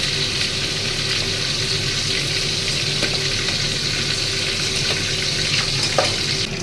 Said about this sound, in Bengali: দেখো আমি হালকা হালকা করে ভাজছি